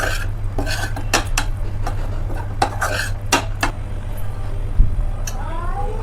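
A spoon scrapes and clatters against a pan as broccoli coated in gram flour is stirred, giving repeated sharp metallic clinks over a steady low hum, close and fairly loud.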